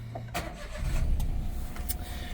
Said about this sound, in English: so let's start the car up